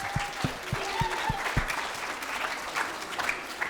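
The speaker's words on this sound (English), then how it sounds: "Let's give them one more round of applause." A crowd at a science lecture applauds steadily, dense clapping filling the room, with a few sharp claps and brief tones early on.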